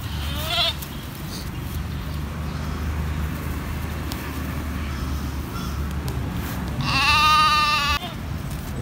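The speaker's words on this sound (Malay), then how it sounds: "ini dia kambing yang baru saja disuntik ya" At a goat market in Punteut, Lhokseumawe, a goat that has just been injected bleats twice against steady low market noise. The first bleat is short, near the start; the second, near the end, is louder and more drawn out.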